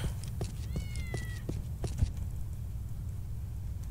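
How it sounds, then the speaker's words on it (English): A cat in the video game Postal 2 gives a single rising-falling meow, moderately close, over a low steady background rumble with a few faint clicks. "I don't see the cat, but I can hear it."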